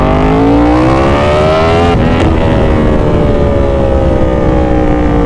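A loud motorcycle engine revs hard through a throaty aftermarket exhaust, pitch climbing then holding at a steady roar, close up.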